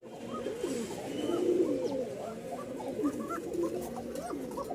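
Pigeons in a pigeon shop in Mirpur-1, Dhaka, selling breeds such as Rajshahi giribaz, cooing in soft, overlapping throaty rolls that repeat steadily from nearby with a faint background hum.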